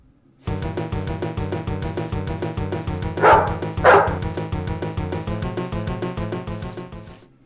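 Dogs bark in a fast, steady barrage, loud and close, with two harsher snarling outbursts in the middle as the attack builds, continuing without pause to the end.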